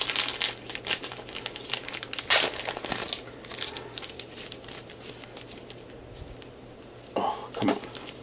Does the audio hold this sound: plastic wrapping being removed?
yes